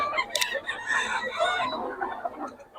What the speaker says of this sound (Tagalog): ganda ng mga manok ni Boss 3K